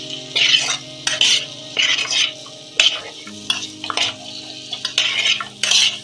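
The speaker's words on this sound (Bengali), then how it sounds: "তিন 4 মিনিট ধরে এটা আমি নাড়াচাড়া করে নেব।" A spoon stirs and scrapes a spiced egg mixture with ground cumin as it fries in a pan over low flame. The strokes come in repeated bursts over a soft steady sizzle, close and fairly loud, with no talking.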